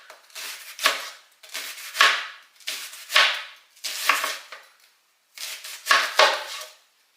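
A big onion is chopped with a knife on a cutting board in bursts of quick, close blade strikes, six rhythmic clusters separated by brief pauses, with no talking.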